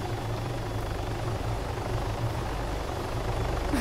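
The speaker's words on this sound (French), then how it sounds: "Oh les hélicos, y'en a pas un qui peut atterrir là?" Helicopter rotors beating steadily in the Arma 3 Altis Life game, a continuous low droning thrum that holds throughout at close range with no talk over it.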